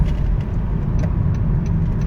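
Mercedes-Benz Sprinter van driving, a loud, steady engine and road rumble heard from inside the cab, with faint light clicks and rattles on top.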